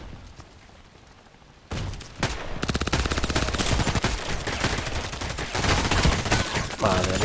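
Gunfire in the Contract Wars video game, with loud bursts of rapid shots that begin after a quieter opening and continue densely, close and sharp, to the end.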